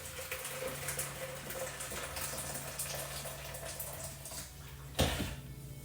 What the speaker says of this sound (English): just pour the boiling water on top